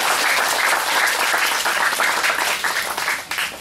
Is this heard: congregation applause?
yes